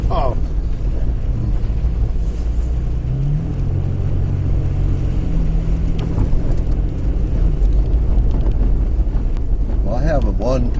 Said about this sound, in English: Yippee-ki-yay, we can do some sand drifting out here.